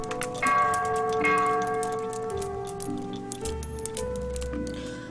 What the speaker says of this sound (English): let's ring this bell